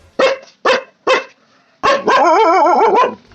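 A dog barks three times in quick succession, then lets out a longer wavering howl-like whine, loud and close.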